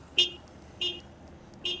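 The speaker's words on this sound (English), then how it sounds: "which is a little bit like a beep beep sound from a cartoon or something" Default horn of a Segway Xafari e-bike sounding three short, evenly spaced electronic beeps, bright and close, with quiet gaps between them.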